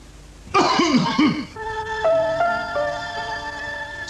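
A few quick coughs and throat-clearing bursts in a 1981 Indonesian TV advert for cough medicine, close and loud, followed by a jingle of steady electronic tones.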